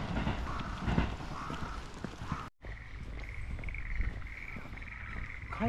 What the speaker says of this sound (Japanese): カエルの声をお届けしております。